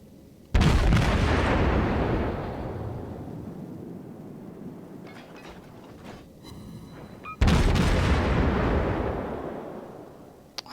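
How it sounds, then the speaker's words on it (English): Heavy naval guns of the Japanese light cruiser Tenryu fire high-explosive shells in World of Warships, two loud deep booms several seconds apart, each rolling into a long decaying rumble. "So now I start firing HE shells at him"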